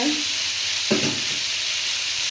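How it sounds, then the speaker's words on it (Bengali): Spice paste for a Bengali fish curry frying in a pan, a steady broadband sizzle close by, with a brief burst of stirring or scraping near the middle. "মশলা দিয়ে দিয়েছি কিন্তু এবার মশলাটা কষানো হয়ে গেলে"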